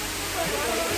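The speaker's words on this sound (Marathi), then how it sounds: "खूपच सुंदर असा हा धबधबा आहे." A waterfall on the trail to Raireshwar fort pours with a steady, even hiss of falling water, moderately loud and continuous.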